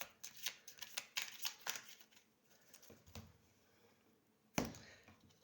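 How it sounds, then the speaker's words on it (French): Lenormand oracle cards being shuffled and drawn, with a run of quick riffling bursts, a quieter stretch, then one sharp slap of a card laid down, close and fairly soft. "On va prendre 2 cartes."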